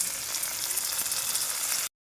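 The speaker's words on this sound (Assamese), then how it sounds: "বিলাহীখিনি দি পেলাই আমি লৰাই ভাজিম" Tomatoes stir-fried in a hot pan with salt, turmeric and garlic, giving a loud, steady broadband sizzle that runs without pause, then drops out abruptly near the end.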